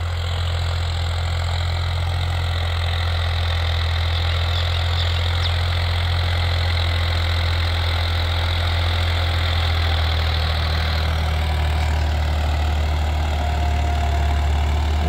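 A Swaraj 855 FE tractor engine runs steadily in a field, a loud continuous low diesel drone with a constant hum throughout and no voices.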